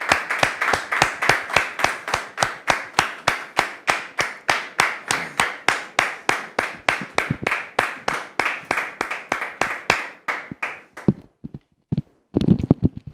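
Audience at a church-style talk show welcoming a guest with steady, even clapping that fills the room in a regular rhythm for about eleven seconds, then thins to a few scattered claps at the end.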